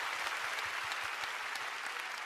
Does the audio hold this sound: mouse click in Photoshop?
no